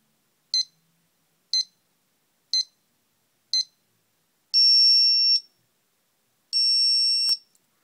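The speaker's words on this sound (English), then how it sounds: "So it does actually do an audible countdown as it gets near the end" An Omega Speedmaster Professional X-33 watch countdown timer: four short evenly spaced electronic beeps, one per second, followed by two longer sustained high-pitched alarm tones, clear and alone.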